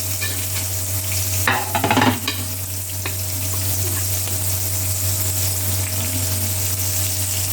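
Small egg-coated fish fry in oil over low heat, with a steady soft sizzle throughout. A brief burst of stirring and pan clatter comes early, then the even frying hiss continues alone.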